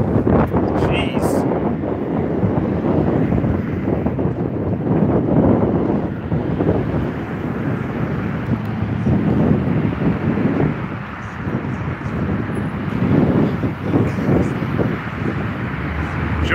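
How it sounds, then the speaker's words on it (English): Strong gusting wind buffets the microphone outdoors while walking from Palace Station toward the Las Vegas Strip, a continuous loud low rumble throughout, with faint talking beneath it. "where the hell did this wind come from all of a sudden?"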